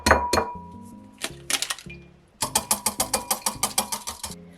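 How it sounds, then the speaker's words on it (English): Pancake batter with a lightly beaten egg whisked in a bowl, producing bright metallic clinks that start as scattered strikes and then settle into a quick, even run of about a dozen close strokes against the bowl. "And now it's time to whisk it all up"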